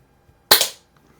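A single sharp shot from an Umarex Browning Buckmark air pistol fired for plinking in a garage, a crisp close crack with a short decaying tail, otherwise quiet.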